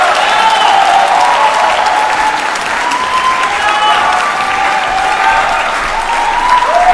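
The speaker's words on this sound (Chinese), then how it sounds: "我们大家用掌声感谢雷佳带给我们的美好的夜晚" Sustained, dense applause from a concert audience at a graduation recital of Chinese folk songs, loud and steady throughout, with a faint voice or tonal line running beneath the clapping.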